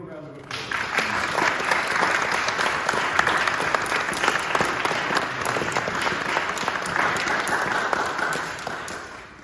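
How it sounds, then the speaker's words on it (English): An audience at an 80th birthday celebration breaks into sustained, dense applause that swells quickly and holds steady before tapering off near the end. "Can we give her a round of applause?"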